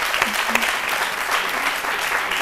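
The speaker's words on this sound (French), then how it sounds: "Merci beaucoup, Alissar, qu'on applaudit très fort." Studio audience applause on a midday television show, a steady, dense burst of clapping heard close throughout.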